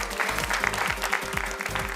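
Applause from the audience at a felicitation ceremony during a mega textile fair, steady crowd clapping over a loud, rhythmic low-pitched music beat.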